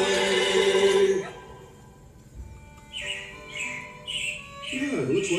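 Robins chirp in short, bright bursts, several repeated calls over a few seconds after a loud stretch of music fades. A little background noise runs beneath them, and the birds sound moderately close.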